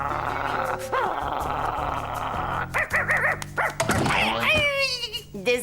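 Kiwi, a cartoon dog, growls low and steadily, then breaks into a few yappy barks and whines, heard close over a steady background hum.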